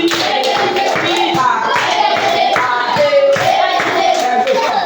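Hands clap in a steady beat along with a sung nursery rhyme at a children's language school, the claps close and crisp under the singing voices.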